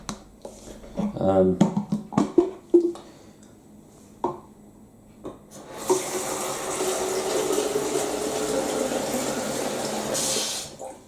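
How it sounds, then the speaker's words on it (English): A few clunks and knocks, then tap water gushes steadily into a kettle, a loud, close, continuous rush that runs for several seconds. "half fill the kettle with water"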